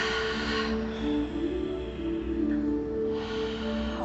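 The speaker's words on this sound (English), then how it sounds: "I want to hear you breathing, because that sound is what's going to be your music." Slow, deep breathing from a group of young people following an instructor, a steady airy hiss that swells and fades in long, even breaths under a constant low room hum.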